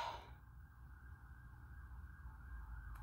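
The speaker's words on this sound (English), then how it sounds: "I'm sure you can hear the police sirens or the ambulance." A faint, distant emergency siren holds a steady wailing tone beneath quiet background hum.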